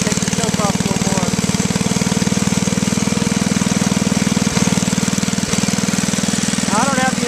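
A Toro 524 snowblower engine runs steadily at idle while warming up in cold weather, impeller disengaged; a close, loud, even chugging with rapid regular firing pulses throughout, and a brief voice sound near the end.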